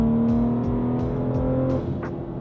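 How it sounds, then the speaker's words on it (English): BMW M440i xDrive under full throttle in sport mode, a loud, close engine note rising steadily in pitch as it accelerates, heard alone without talk. "right now we are in sport, and I'm just gonna floor it and see how the gearbox responds."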